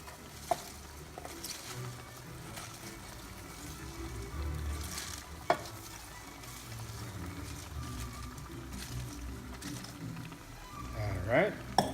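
Cabbage being stir-fried with vegetables in a pan gives a steady close sizzle and patter, with a few sharp clatters of a utensil against the pan.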